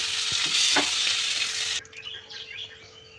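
Prawns sizzle and spit in hot oil in a pan, with a steady loud crackle and a few scraping stirs, then the frying drops to a quieter hiss near the end.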